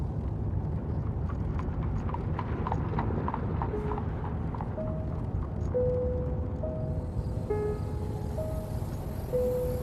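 Steady rhythmic clip-clop of horse hooves on pavement continues throughout, with a low rolling rumble of wheels and a few faint tonal squeaks.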